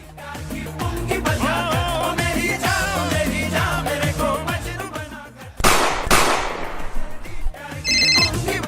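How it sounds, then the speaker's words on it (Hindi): Two quick, sharp gunshot bursts crack out in a Hindi comedy skit, close together and loud, over busy background music with ringing phone-like tones. "दोनों को गोली मार दी"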